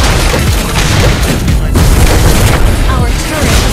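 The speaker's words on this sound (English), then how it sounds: "Our turret has been destroyed" A turret is destroyed in Mobile Legends: Bang Bang, a loud dense blast with booming low rumble and crackling debris, sustained throughout amid dense game effects and a voice.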